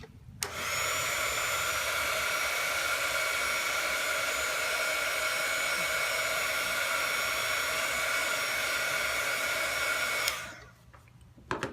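A hair dryer blows steadily on paint on a stuffed fabric doll, running loud and unbroken for about ten seconds before switching off.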